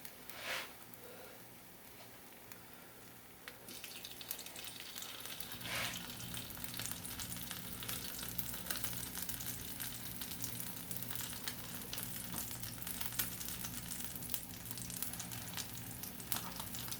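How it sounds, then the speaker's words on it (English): Mushroom steak flautas fry in hot oil, laid seam side down, with a constant sizzle that grows fuller after a few seconds, plus a few faint clinks and no talk. "let's fry some flautas"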